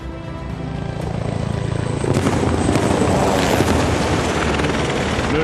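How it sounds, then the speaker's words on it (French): A French Army attack helicopter roars close by with a steady rotor and engine drone that grows louder and rougher partway through, with no voices. "L'hélicoptère d'attaque du sous-groupement va prendre l'ennemi à son compte et manœuvrer pour le détruire."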